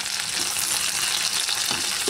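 Tomato pieces for a curry fry in a pan with a dense, steady sizzle. Close and loud, with a few small pops.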